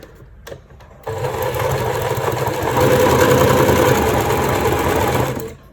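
A sewing machine stitches a 1 cm seam allowance along fabric, its motor starting up and running in a steady rapid whirring hum that grows slightly louder before stopping.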